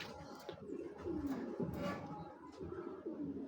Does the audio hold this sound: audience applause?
no